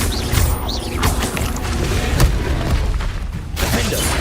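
Booming Confringo spell blasts and crashes from Hogwarts Legacy gameplay, a dense, loud barrage of impacts and rumbling effects that carries on throughout.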